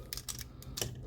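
Stiff plastic parts of a Takara Tomy Voyager Class Mechtech Optimus Prime figure from Transformers Dark of the Moon, trailer hitch section, folding with a few light, close clicks and ticks that come quickly and sit at a low level.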